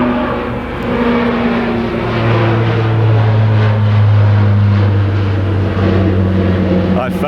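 A propeller aircraft drones loudly overhead beneath the Southampton Airport flight path by the River Itchen, its engine hum rising and shifting in pitch as it passes, with outdoor background noise.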